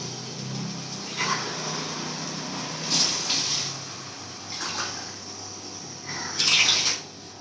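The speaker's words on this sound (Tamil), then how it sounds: "இப்போ நம்ம வந்து தண்ணி ஊற்றிக்கலாம்." Water is poured into a cooking pot for tomato biryani in a home kitchen. Several splashing bursts come close together with brief pauses between them, and no one speaks.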